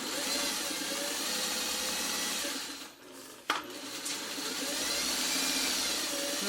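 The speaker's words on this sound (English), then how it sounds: "Now we're just going to put this under our sewing machine." A steady mechanical whir of a running machine, briefly slowing to a pause with a sharp knock, then humming again at full speed.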